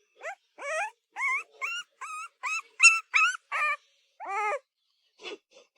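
A young rural puppy gives a run of high, wavering whimpers and yips, about a dozen short cries in close succession, then a pause and a couple of fainter ones, close and fairly soft with no talking.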